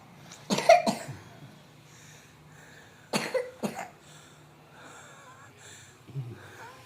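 A child coughs in two separate bouts, each a quick pair of harsh coughs nearby, with quiet breathing in between.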